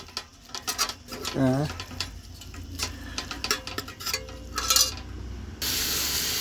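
Chicken with turmeric, coriander, chili and chicken masala powders is stirred in a pan while cooking aboard a lorry. Irregular close scraping clacks and taps mix with a soft sizzle, and a brief voice-like tone is also heard.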